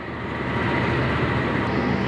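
At Kroya station, a neighbouring train pulls away, a low steady rumble of engine and rolling wagons that swells gently and holds at moderate level with no talk.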